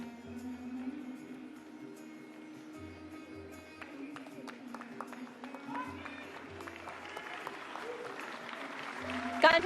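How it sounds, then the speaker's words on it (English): An audience at a hackathon award ceremony for an India–Africa event applauds continuously, a steady wash of clapping that swells slightly toward the end, with faint voices beneath. "Continuous applause."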